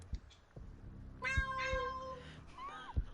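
A cat meows in the video game Wasteland, a drawn-out tonal meow followed by a shorter rising one, set over soft thumping footsteps and low background game sound.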